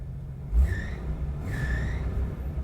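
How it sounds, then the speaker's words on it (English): An AMC Eagle engine idles with a low steady rumble while a belt or pulley lets out two brief, high squeals about a second apart. "A little bit of a squeal from the belt or a pulley."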